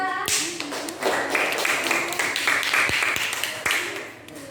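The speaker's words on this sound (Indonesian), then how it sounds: "Tepuk tangan untuk kelompok 3." A classroom of students claps for a presenting group, brisk uneven hand claps and taps swelling for a few seconds, with voices talking over and around them.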